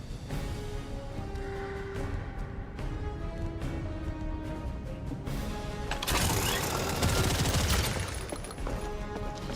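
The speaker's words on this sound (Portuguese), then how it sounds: "Som de tiro." Weapon gunfire in the looter-shooter game The First Descendant, a dense continuous burst of shots over game music and effects, growing louder and harsher toward the end.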